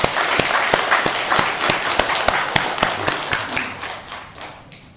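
A church congregation at a Christmas service claps in thanks, a dense burst of applause with sharp individual claps standing out, loud and close at first, then thinning and fading toward the end.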